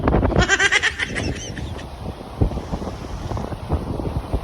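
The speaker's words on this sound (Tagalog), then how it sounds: "Ang tanawin, kaso sobrang hangin." Strong gusts of wind buffet the microphone in uneven, rumbling bursts, loud and close, with some fluttering noise early on.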